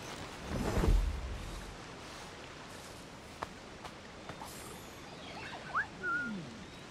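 A player character whistles in Assassin's Creed IV: Black Flag, giving a few short rising and sliding whistle tones near the end over a low ambient game bed with soft footsteps and scattered taps.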